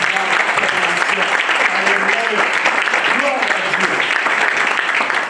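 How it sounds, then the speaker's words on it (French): Applause and cheering from a congregation at a French-language church service, a sustained loud wash of clapping and raised voices running unbroken throughout. "rajoute cela avec des acclamations"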